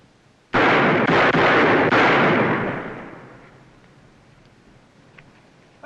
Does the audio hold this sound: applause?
no